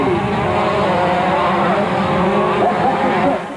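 Off-road racing motorcycles, a KTM and a Honda, drone with a steady high engine whine whose pitch wavers and climbs slightly, holding at a constant loud level before easing off at the very end.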